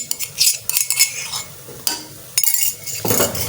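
A spoon stirs coarsely chopped garlic into masala frying in a pan for a chappan tinda dish, with repeated metallic scrapes and clinks over a soft sizzle, close and fairly loud.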